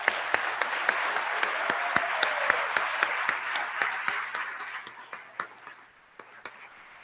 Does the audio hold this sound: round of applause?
yes